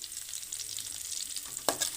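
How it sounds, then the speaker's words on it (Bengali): Chopped onion, garlic, tomato and coriander fry together in a pan, giving a steady close sizzle with a brief louder crackle or stir near the end, no talking. "সবগুলোকে একসাথে ভালোভাবে ভেজে নিচ্ছি।"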